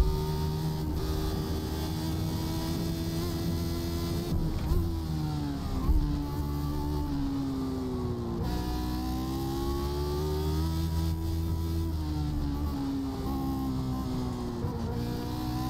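A Lotus 79 race car engine in the iRacing video game drones steadily on the Nordschleife, its pitch rising and falling through gear changes, continuous and moderately loud without talk.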